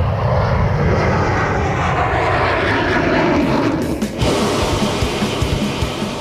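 F-14 Tomcat fighter jet accelerating down a runway for takeoff, a loud, steady roar of engine noise filling the whole stretch without letup, with a brief dip partway through.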